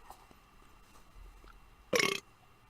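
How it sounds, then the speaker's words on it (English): One short, loud, raspy burp from a player at a tabletop Dungeons & Dragons session bursts out near the mic after a stretch of quiet room noise. "It's a burp."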